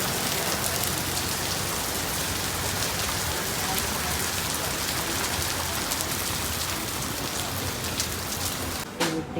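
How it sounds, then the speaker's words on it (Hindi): Heavy rain pours steadily and loudly in Dwarka, a dense unbroken hiss of water on surfaces that lasts throughout and dips only briefly at the very end. "पहुँचते ही तेज़ बारिश द्वारका में"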